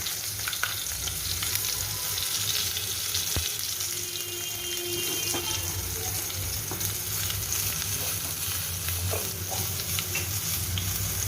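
Two cut green chillies sizzle in leftover mustard-oil-style fish-frying oil, a steady close crackling hiss with occasional stirring clinks and scrapes throughout, no talking.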